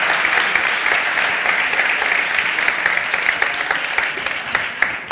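Conference attendees at a Spanish JavaScript event clap at the end of a presentation: sustained, full applause from a sizable crowd, steady and loud, with a few sharper individual claps standing out near the end.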